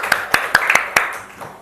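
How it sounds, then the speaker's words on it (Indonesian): A classroom of students clapping for themselves, a short burst of about six sharp hand claps in quick succession that tapers off near the end, with faint voices around. "beri tepuk tangan untuk diri sendiri"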